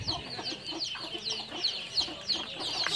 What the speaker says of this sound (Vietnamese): Nhà này nhiều gà thật.